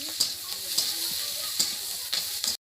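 Close, constant sizzling of onions and green chilies frying in a wok with a few sharp spatula scrapes at intervals, then it cuts off abruptly.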